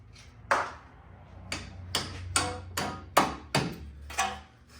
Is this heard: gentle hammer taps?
yes